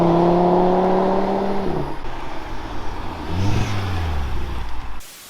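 An Audi TT RS with a 400-horsepower engine and particulate filter revs loudly from outside, with strong harmonic tones falling away and then a second shorter rev swelling midway before cutting off.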